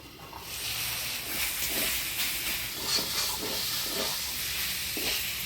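Mixed greens fry in a pan with a continuous bright hiss and sizzle, with soft stirring scrapes at intervals, close and on their own.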